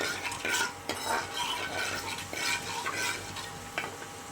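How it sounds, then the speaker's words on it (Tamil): Fenugreek seeds crackle and fry in hot oil while a utensil scrapes and stirs the pan in quick, repeated strokes. "வெந்தயம் நல்லா பொன்னிறமாக பொரிஞ்சு வரட்டும்"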